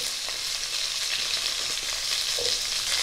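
Potato pieces and cauliflower florets fry steadily in hot oil in a pan, a dense continuous sizzle with faint crackles and occasional stirring scrapes, close and alone.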